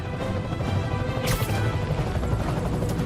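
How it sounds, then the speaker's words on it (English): A helicopter carrying a wrecking ball in the 2018 Spider-Man video game makes a steady, loud rotor-like roar throughout, broken by a sharp crash about halfway through. "I'm getting reports of a helicopter with a wrecking ball."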